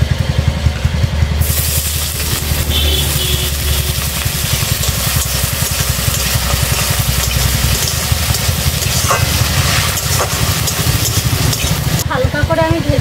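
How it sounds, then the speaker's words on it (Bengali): Potato, capsicum and carrot pieces fry in mustard oil in a hot kadai, a loud, continuous close sizzle with rhythmic stirring and scraping and a low background rumble. "আলু আর ক্যাপসিকাম আর গাজর এইগুলো আমি এবার ভেজে নেবো।"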